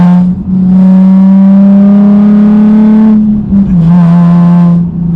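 A Nissan 370Z Nismo engine pulls hard and loud from close by, a strong steady tone climbing under acceleration, briefly dipping between gears before surging again, with no talk over it.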